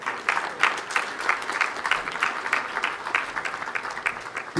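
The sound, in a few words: audience applause for the professor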